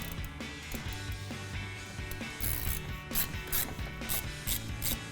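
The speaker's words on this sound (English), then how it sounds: "And we'll tighten that down with our 13mm socket." A 13mm ratchet socket tightens a brake caliper bolt on a 2012-2020 Dodge Charger, giving close, quiet rapid clicking of the pawl with scraping metal contact in quick repeated swings.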